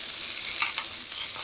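A Salisbury chop steak sizzles in a pan with very little oil, a steady close frying hiss with a couple of brief scraping stirs and no voices.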